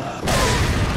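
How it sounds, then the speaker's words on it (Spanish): A grenade goes off in the 2022 Resident Evil 4 remake on PS5: after a brief quieter moment, a sudden loud, broad blast erupts and roars on without pause until the end. "granadita que al canto"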